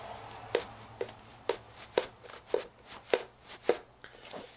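A small loose item rattling inside a thin, shaken gaming subscription box, about eight evenly spaced soft knocks, close and quiet with no talk.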